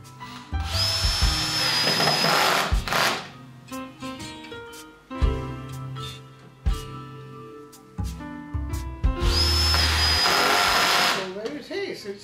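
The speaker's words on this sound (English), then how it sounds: "so now I can pre-drill it" A power drill whirs in two long bursts, revving up and winding down, pre-drilling wood, with clunks and handling noises in between.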